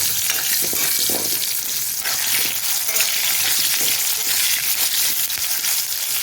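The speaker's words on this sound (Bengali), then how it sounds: "এখন তেলের মধ্যে এই আলু পেঁয়াজগুলো আমি দিয়ে ভেজে নেব ভালো করে" Potatoes and onions fry in hot oil, a steady dense sizzle with occasional stirring scrapes, close and continuous with no voices.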